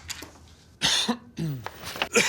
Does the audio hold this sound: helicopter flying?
no